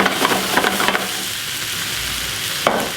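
Eggplant fries in olive oil in a pan, a loud, steady sizzle close by, with a few stirring scrapes at the start and one more near the end.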